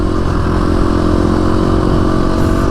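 A KTM 350 SX-F dirt bike engine drones loud and steady while riding through desert terrain, a continuous close, rough mechanical roar with no talk over it.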